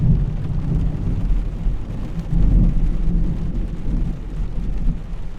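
Thunder rumbles low and loud through steady overnight rain around a camping truck, a continuous deep roll that swells near the middle and holds throughout with no voices.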